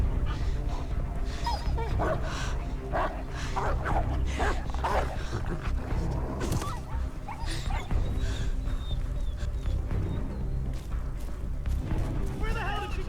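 A dog barks and yips repeatedly in the video game Beyond: Two Souls, a series of sharp close barks and whimpers over game noise, with someone talking through it.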